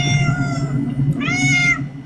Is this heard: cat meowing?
yes